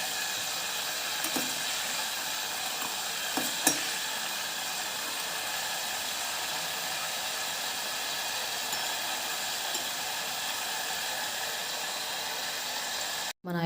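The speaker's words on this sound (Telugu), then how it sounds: "చూసారా సౌండ్ ఎలా వస్తుందో?" Carrot pulp sizzling in homemade skincare oil in a pan, a steady loud hiss that carries on unbroken with a few faint pops and no talking.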